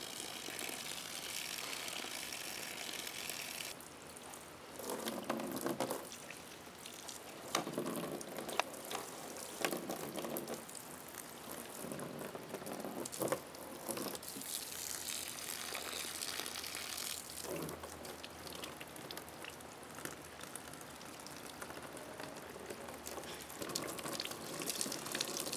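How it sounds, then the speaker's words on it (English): Steady broadband hiss of water spraying from a garden hose runs throughout, surging and dipping in bursts, close and fairly loud with no talking. "You sprayed water on Daddy."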